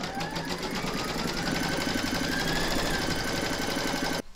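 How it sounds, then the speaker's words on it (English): An embroidery machine stitches an in-the-hoop stacked pumpkin design, its needle drive whirring in a steady, close, continuous rhythm that cuts off abruptly at the end. "Pop your hoop back into your machine and stitch round number 2 to secure it"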